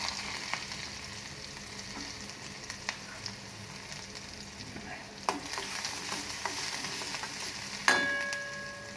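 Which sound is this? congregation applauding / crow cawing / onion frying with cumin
onion frying with cumin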